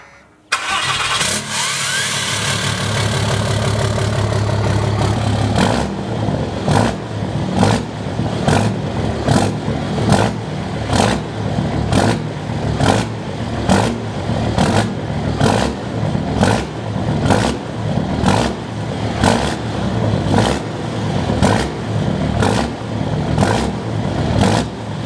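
A lifted Volkswagen Bug truck engine cranks and fires, then settles into a loud, rhythmic run with repeated sharp revs pulsing at steady intervals, close and unaccompanied by talk.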